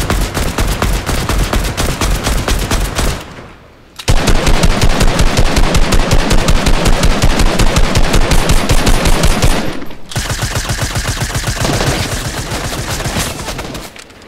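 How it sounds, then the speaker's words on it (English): Rapid SMG bursts fire in Fortnite: long, loud runs of fast shots broken by two short pauses, with no speech. "Take the SMG because it's kind of fast when you're shooting."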